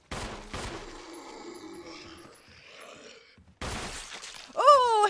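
Gunshots ring out in a Resident Evil video game: two sharp, close bursts separated by a quieter stretch of ambient game noise, with a rising tonal effect at the close.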